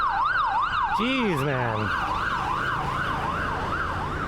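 Ambulance siren passing on a morning commute road on Vancouver Island, a loud wailing tone sweeping up and down continuously, with a lower horn-like blast early on and a man's brief remark.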